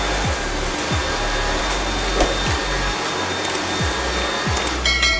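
A Eureka RapidClean Pro NEC280TL cordless stick vacuum motor runs steadily with a high whining hum, punctuated by a few soft low thumps from handling, close to the listener.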